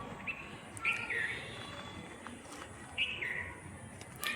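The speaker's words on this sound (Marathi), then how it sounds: "पक्ष्यांचा मस्त आवाज." Birds chirp in a village garden among fruit trees, with a few short bright calls rising over a steady outdoor hum, fairly faint and at a distance.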